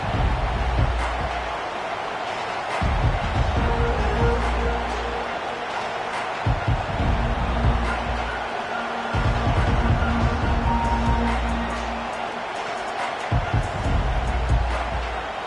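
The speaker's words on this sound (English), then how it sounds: "This crowd going to try to make life miserable for these guys." Dense stadium crowd roar in the Madden football video game swells and surges continuously, loud and broad, with a commentator talking intermittently over it.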